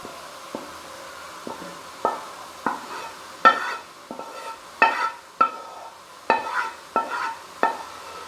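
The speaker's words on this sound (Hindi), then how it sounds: "और इसे हल्के हाथों से इस तरह से मिक्स करूंगी।" Melted khoa gets stirred into a carrot barfi mixture in a pan, heard as a regular series of close, short scraping strokes over a faint sizzle, with no voices.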